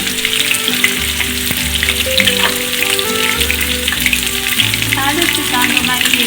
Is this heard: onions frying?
yes